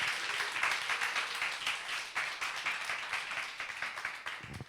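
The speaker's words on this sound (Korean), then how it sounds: "자 박수로 환영 부탁드립니다." A church congregation claps to welcome a guest speaker, a fairly soft, steady round of many hands with a few distinct sharper claps, continuing evenly throughout without talk.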